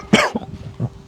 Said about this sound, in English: apparently I'm about to have a fucking cough attack and a hiccup attack all in one.